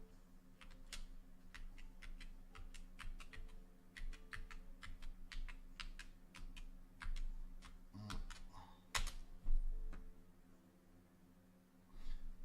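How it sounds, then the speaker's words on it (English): A jammed computer keyboard is typed on in irregular bursts of crisp, close key clicks and taps, pausing briefly and then resuming, with no voices. "I think the keyboard's like jammed up."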